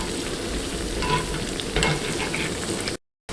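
Parle-G biscuit snack pieces frying in oil in a pan, a steady close sizzle with a brief stir or flip partway, then a short cut to silence near the end.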